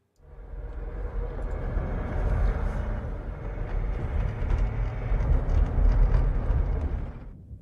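Car engine sound effect for an audio drama, a steady low rumble that rises in, holds loud and even for several seconds, then cuts off abruptly.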